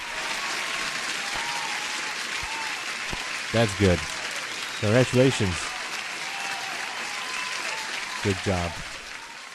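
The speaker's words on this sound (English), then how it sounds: "let me give you an applause" Steady crowd-like applause runs throughout a live futures day-trading session, filling the background at an even level. Someone talks briefly over it in a few short spurts.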